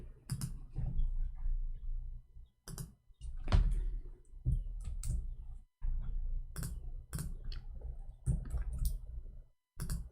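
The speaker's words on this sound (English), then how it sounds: "I'm typing in Arabic, hold on." Rapid clicking of computer keyboard keys while text is typed in Arabic, coming in bursts separated by short pauses, close and fairly clear.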